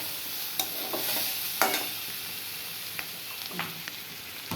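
Bitter gourd sizzles in a frying pan as a utensil stirs it, steady frying hiss broken by several sharp scraping clinks.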